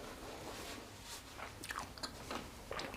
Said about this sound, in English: Nice crunch from the bullet chilies.